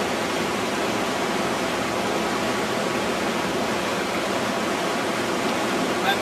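Water flowing through a sluice box in a stream while gold prospecting, a steady close rushing and gurgling wash that stays even and continuous throughout.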